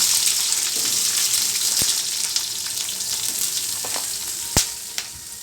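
Onion and green chilli fry in a little oil for a lentil-style saaru, giving a loud, steady close-up sizzle with a few sharp clicks of a utensil near the end; nobody talks.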